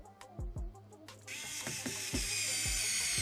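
A ratcheting screwdriver clicks in close, crisp bursts while tightening screws on an XS908 gel blaster, with a steady whirring mechanical buzz taking over partway through.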